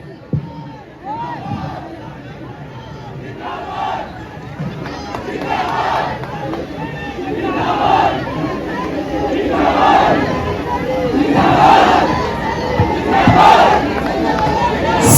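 Crowd at a marathon prize ceremony cheering and shouting for the first-place winner, loud voices swelling and rising with bursts of yells and chatter throughout.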